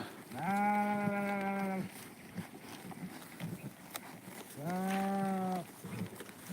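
Two long, wavering sheep bleats a few seconds apart, fairly close, with quiet rustling and background noise between them.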